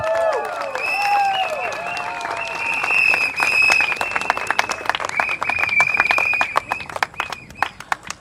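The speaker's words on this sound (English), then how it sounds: "A round of applause to her," Crowd at a People's Power Party election rally for Tampines GRC in Singapore applauding steadily, dense clapping with cheers and whistles layered on top, sustained for several seconds before thinning out at the end.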